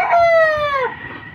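A white rooster crows once in a backyard, loud and close, a single drawn-out call that trails off.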